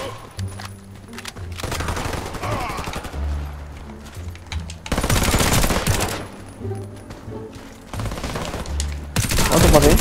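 H&K MP5 submachine gun bursts in Warface, several loud rapid-fire volleys separated by short pauses, with a voice talking over parts of it.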